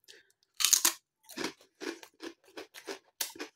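Oily Aldi Katsu Curry crisps crunched close to the microphone, a loud first bite followed by about eight evenly spaced crisp chewing crunches in a quiet room, with no talk.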